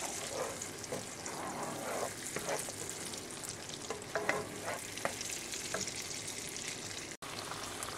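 Rice frying in a pan with tomato coulis, stirred steadily, giving a continuous close sizzle broken by soft scraping strokes of the spoon throughout.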